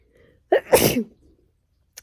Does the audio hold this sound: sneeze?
yes